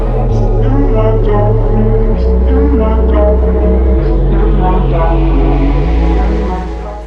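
A Porsche 911 GT3 of the 992.2 generation fitted with an Akrapovic exhaust revs loud and close, its flat-six rising in stepped surges with sharp gear-like drops and a high metallic wail over a deep rumble.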